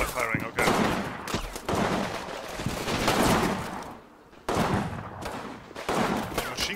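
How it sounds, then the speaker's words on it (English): Combat Mission Fire and Rubble gameplay: bursts of loud, dense gunfire and rattling automatic fire in rapid volleys, broken by a brief lull before the shooting resumes. "Where's my fire support from these guys? Ah, now they're firing, okay."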